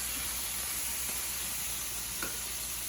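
Shrimp sizzling steadily in hot olive oil with sauce in a pan for shrimp fried rice, a continuous close frying hiss with faint stirring clicks and no voices.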